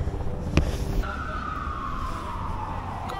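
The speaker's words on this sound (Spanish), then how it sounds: "Con las sirenas de fondo, ruido típico de Nueva York." A wailing emergency vehicle siren sweeps across a New York City street, one steady rising-and-falling tone that sets in after a sharp bang and carries on against dense traffic rumble, fairly close and loud.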